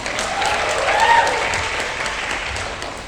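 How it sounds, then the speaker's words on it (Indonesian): A seminar audience claps together in a steady, moderately distant wash of applause lasting a few seconds, with faint voices beneath it. "Tepuk tangan dong buat kita semua."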